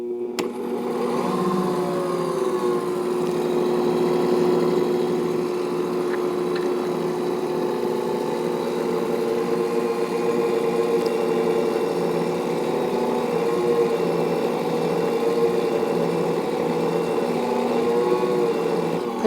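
A motorized mixer works quinoa bread dough with a steady, droning hum that holds its pitch with slight wavers, close and loud, running without a break.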